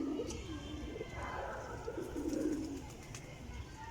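Soft, low coos from breeder flying pigeons roll on and off over a steady outdoor hum, fairly close by, with no voices.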